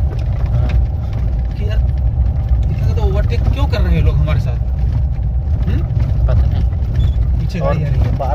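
A vehicle approaches from behind on a dark night road, its engine a steady low rumble throughout while people talk over it inside the car.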